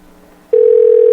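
An outgoing phone call starts with a faint background hum, then a loud, steady single-pitch ring tone comes in and holds close up without any talking.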